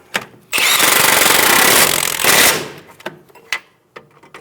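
Tightening the strut nut on a front strut assembly of a 2010-2014 Subaru Outback: a loud, rattling two-second mechanical burst up close, followed by a few sharp metallic clicks and taps.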